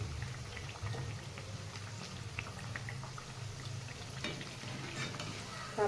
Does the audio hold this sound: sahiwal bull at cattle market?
no